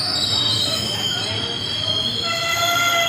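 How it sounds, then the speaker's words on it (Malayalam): A train rumbles steadily nearby at Aluva railway station with a bright, sustained metallic squeal of wheels on rails, loud and continuous throughout. "ഇത് പൂനെക്കുള്ള ട്രെയിൻ കിടക്കുകയാണ് ഇത് ആലുവായിലാണ് ആലുവ റെയിൽവേ സ്റ്റേഷനിലാണ്"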